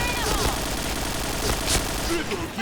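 Rapid bursts of SIG-Sauer MCX rifle gunfire in a video game crackle continuously, dense automatic shots layered with a voice talking underneath.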